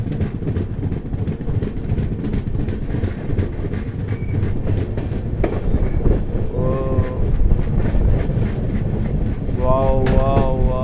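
Amaravati Express passenger train hauled by a WDG 4B diesel locomotive, running with a steady loud rumble and rattle of the cars, with horn-like tonal notes sounding near the middle and end.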